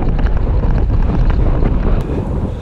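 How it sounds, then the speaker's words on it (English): Strong wind roars and buffets across the microphone while cycling on open roads in Lincolnshire, a loud continuous rumble that eases slightly near the end. "So far, thanks to all this wind,"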